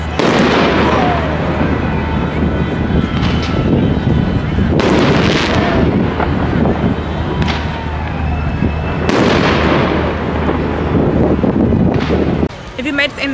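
New Year's fireworks bursting under the Eiffel Tower in Paris: continuous loud crackling and booming with several sharp heavy bangs, surrounded by a noisy crowd with voices talking throughout.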